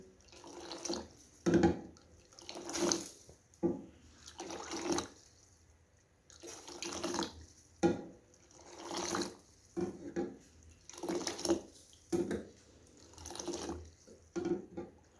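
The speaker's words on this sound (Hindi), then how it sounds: "अब इसको अच्छी तरह से हम हिलाएंगे, इसको फेंटेंगे अच्छी तरह से।" Kashmiri kahwa tea being vigorously stirred and whisked in a pot after water is added, giving repeated sloshing, splashing bursts in an uneven rhythm, close and fairly loud, with no talk.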